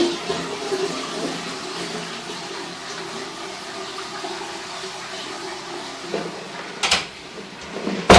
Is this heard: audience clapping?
no